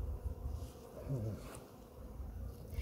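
Honeybees drone steadily around an opened seven-frame hive during a winter queen check, a close, continuous low buzz with someone briefly speaking over it.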